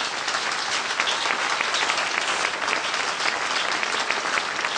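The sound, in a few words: applause for award recipient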